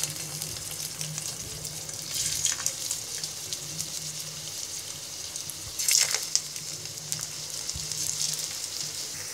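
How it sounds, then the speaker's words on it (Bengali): Mango pieces frying in two tablespoons of hot soybean oil, a steady soft sizzle and crackle throughout with a few brighter bursts of spitting, close and fairly quiet, no talking. "তেলটা যখন গরম হয়ে যাবে তখন একটা একটা করে চেপে রাখা আমগুলো দিয়ে দিব।"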